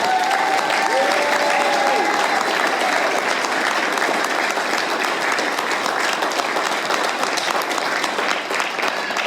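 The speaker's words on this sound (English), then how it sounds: "Okay, round of applause" An audience at a city council meeting breaks into loud, continuous applause, thick clapping held at full strength throughout, with a few voices briefly audible early on.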